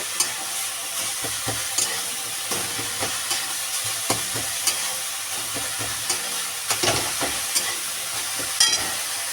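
Grated coconut filling cooked with date palm jaggery is stirred in a pan, giving repeated scraping strokes and soft sizzling at a steady, close rhythm with no talking.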